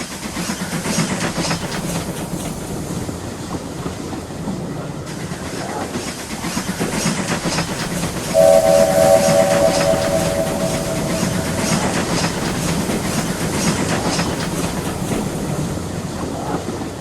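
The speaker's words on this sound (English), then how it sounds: "And with that, Stepney puffed away." Steam locomotive chugging steadily along the track with rhythmic puffing and rolling clatter, a short steam whistle blowing midway through, loud and continuous with no voices.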